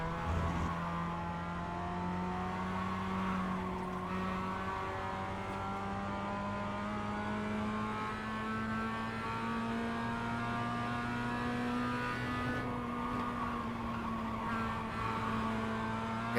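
Race car engines lapping Lime Rock in the iRacing video game drone steadily and loudly throughout, with sustained harmonic whine that rises and shifts as several cars run close together, no talk over it.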